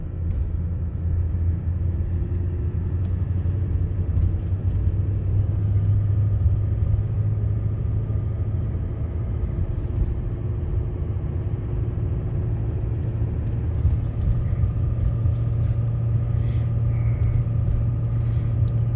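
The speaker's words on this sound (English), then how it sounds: "it just kind of lost power completely before it downshifted and started doing the lurching thing again." A vehicle towing a trailer on a snowpacked icy road, its transmission losing power and lurching between gears, gives a continuous low engine drone and road rumble with a slight rise and fall in pitch, close and steady.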